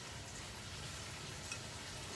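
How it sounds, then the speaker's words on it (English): Chicken thighs frying skin side down in a pan give a faint, steady sizzle and crackle, quiet and even throughout with no talking. "I'm gonna go skin side down, get my skin nice and crispy in there"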